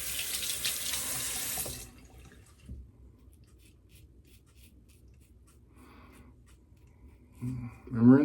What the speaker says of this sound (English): I'm rinsing with cold water.